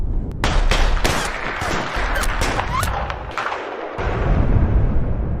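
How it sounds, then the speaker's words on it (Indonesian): Gunfire rings out in a film shootout from The Good, The Bad, The Weird, with several close, sharp shots and reports in quick succession over a dense, rumbling action soundtrack. "mengambil posisi dan akan saling menembak satu sama lain"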